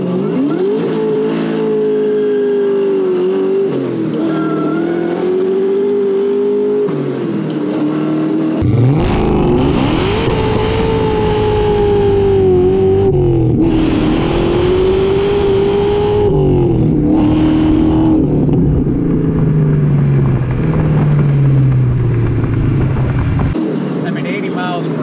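A supercharged 4.6 liter 2003 Ford Mustang Cobra accelerates hard through the gears, its engine note climbing and dropping in loud, close surges with a brief shift gap, heard from inside the car.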